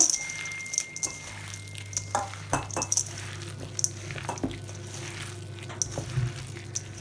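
About 150 grams of dark chocolate chips tipped into a bowl for Starbucks-style cookies, giving scattered light clicks and ticks of small hard pieces striking the bowl over a steady low hum.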